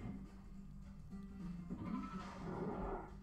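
A goat bleats in the Spyro 2 video game, a wavering nasal cry rising over a low game backdrop, fairly faint and with no talk over it.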